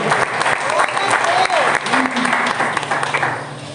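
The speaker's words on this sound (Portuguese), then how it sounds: "Pode aplaudir Jesus ficando de pé" A church congregation rises to its feet and applauds Jesus during a sermon on the resurrection. Loud, sustained clapping fills the hall, with a few voices shouting over it before it begins to fade.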